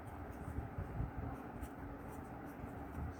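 Writing out a physics solution, a quiet continuous scratching of pen or chalk strokes close by, soft and steady for a few seconds.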